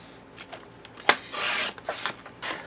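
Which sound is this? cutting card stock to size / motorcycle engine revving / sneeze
cutting card stock to size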